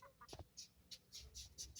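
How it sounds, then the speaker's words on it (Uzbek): Backyard chickens, including a black rooster, cluck and squawk in short bursts, close by and fairly loud against a quiet background. "tovuqlarimiz."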